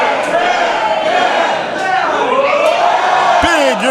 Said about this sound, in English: the crowd making themselves distinctly clear on who they may favor in this contest